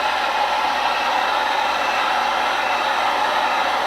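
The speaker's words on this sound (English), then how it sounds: "We'll heat gun it and shrink it a little bit." A heat gun blows a steady, even hiss of hot air across foam sculpture material on a DIY Yeti nutcracker, shrinking it; the noise is close, loud and constant throughout with no talking.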